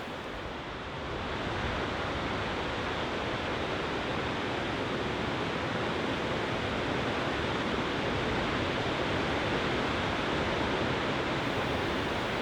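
The 100-metre Rouget waterfall in the Alps thunders as a steady, dense roar of falling water, loud and unbroken throughout, rising slightly after the first second, with no voices or other sounds.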